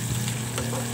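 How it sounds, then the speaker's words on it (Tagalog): Diced tomatoes, garlic and onion sauté in a hot pan, giving a steady, close sizzle with a constant low hum beneath and no voices over the one-second stretch. "Gisa lang natin kasama ang ating ahos bombay."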